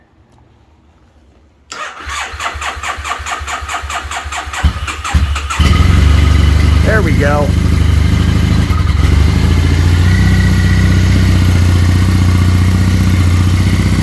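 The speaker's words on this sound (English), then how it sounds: "Has that British sound. Parallel twin. It just has that sound." A 2006 Triumph Bonneville T100 parallel-twin motorcycle engine cranks with a fast rhythmic whir, catches and fires up near and loud, then settles into a steady, throbbing idle that runs to the end; a brief voice speaks as it catches.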